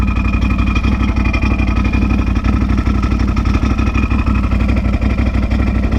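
A Can-Am Outlander XMR 850 ATV engine runs steadily close by, a dense low rumble with a constant throb and no clear revving, heard alone without talk.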